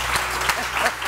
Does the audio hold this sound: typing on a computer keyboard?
no